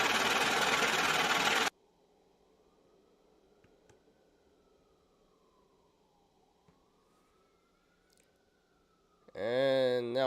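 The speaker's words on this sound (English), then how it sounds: "And now I hear ambulance." Distant ambulance siren wailing faintly in a slow rise and fall for several seconds under a quiet background, framed by a burst of loud broadband noise before it and a voice after it.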